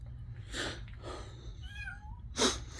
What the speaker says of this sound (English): that cat isn't trying to get into that little hole there